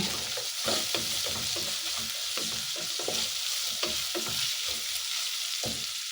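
Miswa noodles and sautéed ingredients are stirred in a hot pan, a steady sizzle broken by repeated scraping, clacking strokes of the spoon at an uneven rhythm, close up.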